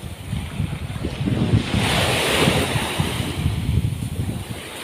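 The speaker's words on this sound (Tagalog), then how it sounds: "naririnig yung hampas ng tubig" Waves wash and break on the shore at Villa Veronica Beach in Allen, Northern Samar, a surging rush under gusty wind noise on the microphone.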